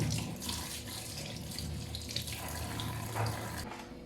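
A kitchen faucet runs onto vegetables being washed in a sink, a steady close stream with small splashes and clinks throughout, fairly quiet and without speech.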